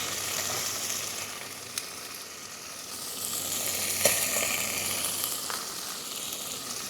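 Eggs sizzle and fry in a pan over a camping burner, a steady close hiss with brief scraping as the edges are worked loose, no talking.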